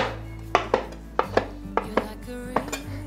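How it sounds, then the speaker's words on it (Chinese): Shiitake mushrooms are chopped with a kitchen knife on a board, giving about eight crisp, close knocks in an uneven rhythm, sometimes in quick pairs, with no talking. "接着把香菇切碎"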